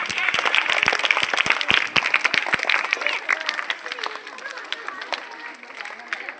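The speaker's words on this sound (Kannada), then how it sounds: "ಅವನಿಗೊಂದು ಜೋರ ಚಪ್ಪಾಳೆ ಹಾಕಿ." An audience at a National Engineer's Day event claps loudly, dense applause that starts strong and gradually thins and fades over several seconds, with some voices in the crowd.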